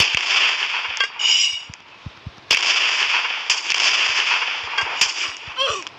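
Gunfire in a multiplayer gun war video game sounds as sharp scattered cracks over a steady hissing, high-pitched background, with a few louder shots standing out.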